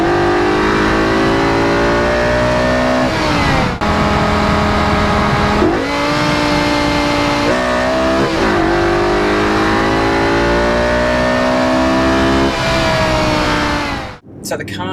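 A 2005 BMW E60 M5 with its V10 running loud straight pipes revs hard and accelerates through several paddle-shifted gears, each upshift briefly cutting the roaring, rising engine note, close and loud throughout.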